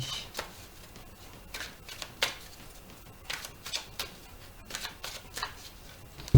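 Playing cards are shuffled and cut by hand, quiet crisp riffles and sharp flicks in irregular bursts close by, ending with a soft thump.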